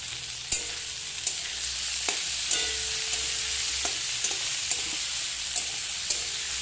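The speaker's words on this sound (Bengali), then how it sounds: "এবার সব কিছুকে ভালো করে ভেজে নেব।" Onion, tomato and green chillies fry in a pan with a continuous soft sizzle, punctuated by regular light clicks and scrapes of a spatula stirring, heard up close without voices.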